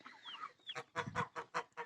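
Chickens cluck softly nearby in a short series of rhythmic clucks, with a faint higher chirp at the start.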